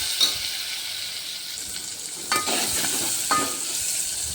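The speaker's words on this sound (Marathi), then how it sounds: "थोडीशी हळद तेलामध्ये टाकले की छान कलर येतो आणि थोडासा हिंग टाकलेला आहे तर दोन्ही छान असं परतवून घ्यायचं आहे" Turmeric and asafoetida sizzle in hot oil for a drumstick dal, with a steady close frying hiss and a few sharp clinks and scrapes as the spices are stirred.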